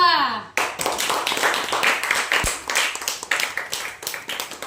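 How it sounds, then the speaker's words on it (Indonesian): A classroom of students claps for a presenting group, a sudden burst of hand claps that settles into a steady, rhythmic clapping, close and fairly loud, with a voice at the very start. "Semuanya tepuk tangan untuk kelompok 2."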